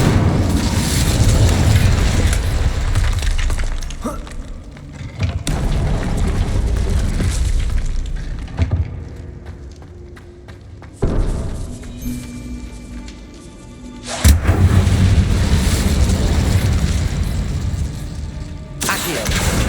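Loud booming fire-spell blasts from Hogwarts Legacy burst out in heavy waves, a dense roaring rumble that swells, drops away, then returns with fresh eruptions, layered over a steady game soundscape.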